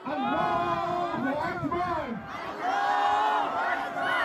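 Pro-government demonstrators in Isfahan chant and yell together, a loud mass of raised voices with rising and falling shouted phrases that swell again near the end.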